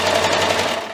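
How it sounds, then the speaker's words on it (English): A sewing machine stitches an overlap of felt with yellow thread, giving a steady, close, fast mechanical whir for about a second. "we're just gonna stitch that down with our sewing machine"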